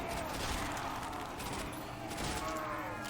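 A Thompson submachine gun fires in Call of Duty: World at War zombies, a dense, continuous rattle of automatic gunfire amid game noise, with a voice faintly underneath.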